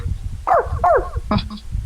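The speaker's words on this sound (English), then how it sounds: "And you hear a dog bark." Two quick bark-like yelps followed by a shorter third call, close and fairly loud, from a dog in a tabletop role-playing game scene.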